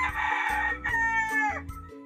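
A gamecock rooster crows nearby, a loud, harsh cock-a-doodle-doo rising and trailing off over about two seconds, with no speech.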